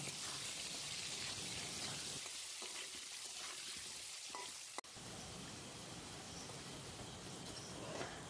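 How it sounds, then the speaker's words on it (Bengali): Potato pieces frying in hot oil with salt and turmeric, a quiet continuous hiss and sizzle with one brief sharp click midway, no talking. "আলু নুন আর হলুদ দিয়ে ভালো করে"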